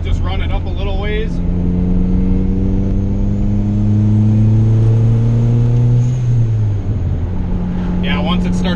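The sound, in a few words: turbocharged Honda Integra GSR engine revving, VTEC disabled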